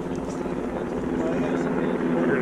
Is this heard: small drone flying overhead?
yes